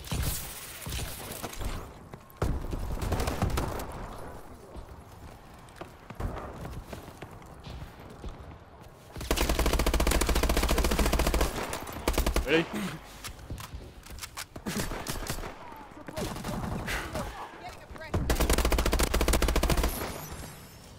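Rapid automatic gunfire in the first-person shooter Call of Duty: Advanced Warfare multiplayer, loud bursts recurring in clusters with quieter gaps between them, mixed with game effects and someone talking.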